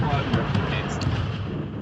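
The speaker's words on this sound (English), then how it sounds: "Fire all cannons." Cannons fire in a team PVP battle in an Elementalist video game, a dense rumbling barrage with sharp booms layered over constant battle noise, with voices underneath.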